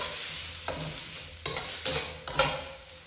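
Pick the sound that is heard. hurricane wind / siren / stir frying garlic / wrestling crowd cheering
stir frying garlic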